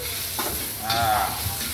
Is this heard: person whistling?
no